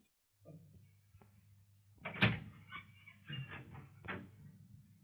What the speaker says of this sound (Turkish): Gideyim de kapıyı açayım.